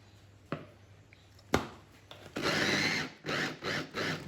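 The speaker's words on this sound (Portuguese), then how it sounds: "Então agora tenho aqui a picadora e vou colocar a cebola, os alhos, o pimentão e vou colocar azeite" An electric food chopper whirs through onion, garlic, bell pepper and olive oil. A couple of sharp knocks come first, then several short, loud pulses of the motor with brief pauses between them.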